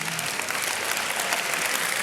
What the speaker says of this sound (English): Y'all clapping too hard